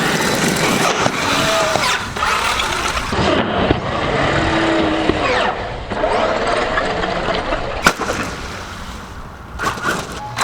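A Traxxas X-Maxx 8S radio-controlled monster truck motor whines and buzzes steadily up close, its pitch rising and falling as it drives over a ramp, with a sharp knock near the end.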